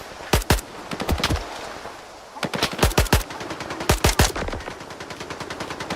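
Automatic gunfire in the shooter game S.T.A.L.K.E.R. 2: Heart of Chornobyl, with loud, sharp bursts of rapid shots in clusters and brief gaps between them, and no talk.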